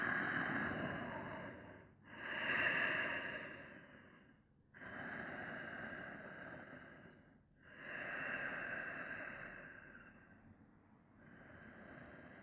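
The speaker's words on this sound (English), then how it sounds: "Listening to the sound of your breath, just a few more breaths before we do anything else." Slow, relaxed breathing while lying still in a final yoga relaxation pose: long, soft airy inhales and exhales in an even cycle of about three seconds each, close and steady, with no talking.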